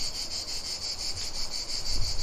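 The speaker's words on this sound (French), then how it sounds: "les cigales pour le fond sonore et la sieste" A dense, continuous high-pitched buzzing of cicadas in a rural olive grove, pulsing evenly in fast rhythmic waves, fairly close and steady over faint background noise.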